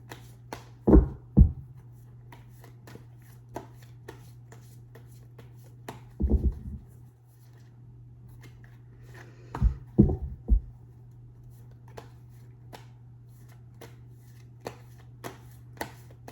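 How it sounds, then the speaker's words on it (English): Tarot cards are shuffled and handled close up in a quiet room: a few short riffling bursts rise out of soft clicks and taps, separated by long near-silent pauses over a low steady hum. "Let me pull 3 more cards and see what's coming up."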